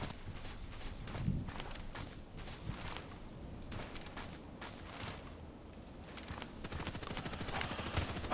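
Bursts of gunfire from Contract Wars, a first-person shooter, fired as rapid triple shots: several short clusters of sharp cracks at moderate loudness, with movement and footstep noise between them.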